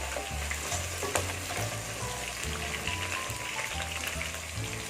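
Onions and curry leaves sautéing in a pan of oil for a fish curry, with a constant close sizzle and occasional stirring scrapes and knocks throughout, no talking.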